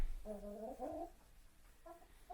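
Backyard chickens make a few soft, low clucking and cooing calls, a couple of drawn-out notes early and a brief pair near the end. Quiet and close, with no talking.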